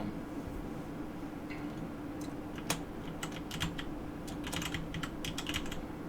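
Quiet, irregular clicking of a computer keyboard as a title is typed, scattered keystrokes in short bursts over a low steady room hum.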